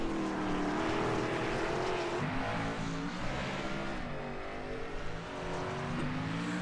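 SMR X Series race cars at speed on the Bathurst circuit, a loud, continuous engine roar holding steady with slight pitch shifts across the whole stretch and no voices.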